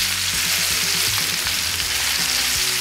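Steaks with a browned crust flipped in a hot pan: a continuous loud frying sizzle, with low thumps and scrapes as the meat is turned, and no voices.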